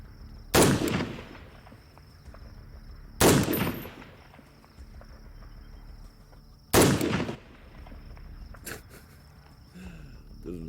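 Three loud M1A rifle shots ring out several seconds apart, each a sharp crack with a decaying echo, over a steady background hum and faint outdoor ambience.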